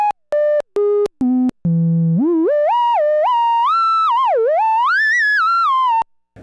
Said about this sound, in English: So that was the sine wave.